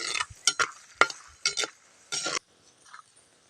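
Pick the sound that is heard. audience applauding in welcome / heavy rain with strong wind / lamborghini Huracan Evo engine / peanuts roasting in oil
peanuts roasting in oil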